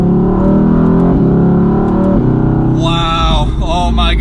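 A 2020 Mercedes-AMG GT in Sport Plus mode, its engine loud and close with a steady drone that climbs into a sharper rev near the end.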